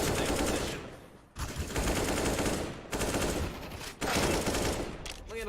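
Dense, loud automatic rifle fire from AUG and M4 rifles in a CS:GO semi-final match at DreamHack Masters Dallas 2019. Sustained bursts overlap each other, broken by brief pauses.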